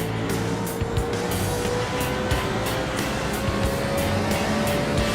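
A race car laps Phoenix International Raceway, its engine droning steadily from a close onboard position, with a rising tone and rhythmic rushing wind and road noise.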